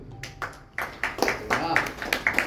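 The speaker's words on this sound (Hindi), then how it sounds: "इनके सम्मान में जोरदार तालियां बजाएं" An audience at a Hindi poetry gathering breaks into a few scattered claps that build into quick, uneven applause, fairly soft, mixed with some voices.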